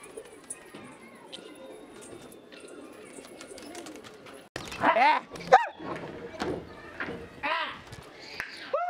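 Pigeons at a pigeon-flying contest coo and call amid outdoor noise, with a dog barking and loud bursts of talking and shouting over the birds in the second half.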